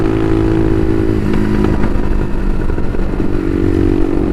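Bashan Motomax 250 supermoto motorcycle engine running steadily and loud throughout, a close constant drone with slight revving rise mid-clip, ridden at night with no talk.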